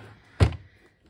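A drawer in a craft room storage unit slides open with a single short, solid thunk, close and moderately loud against a quiet room.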